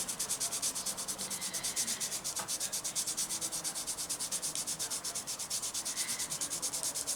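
Fingertip briskly rubbing double-sided tape down onto paper in a mixed-media craft, a close, steady scratchy swishing repeated in quick even strokes, with no talk.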